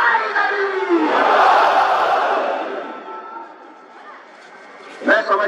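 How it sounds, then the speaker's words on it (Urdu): A crowd at an Ashura procession in Gilgit chants the slogan Naara-e-Haidari, a loud swelling collective shout that rises and fades, followed by a brief renewed burst of voices near the end. "نعرہ حیدری"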